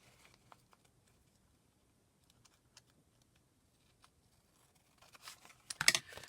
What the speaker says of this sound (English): just going to trim the edge there and there